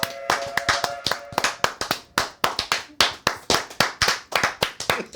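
Sharp, close handclaps in a quick irregular run, with several hands clapping together in bursts of uneven rhythm at a comedy podcast taping, loud and clear with no talk over them.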